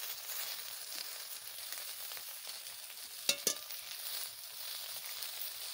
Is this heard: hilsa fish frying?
yes